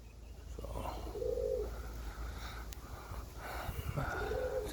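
Birmingham roller pigeons cooing outdoors on a very windy day, two low soft coo phrases rising out of steady gusting wind noise.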